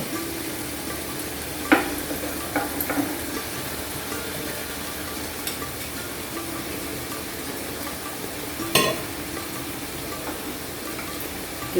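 A steady frying sizzle of poppy seed and mustard paste in a pan, with a few sharp clinks and stirs standing out near the start and later on; no voices.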